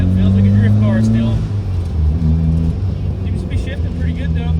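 Mazda Miata drift car with a welded differential, its engine droning steadily and shifting pitch as it drives off, loud and close throughout with a voice over it.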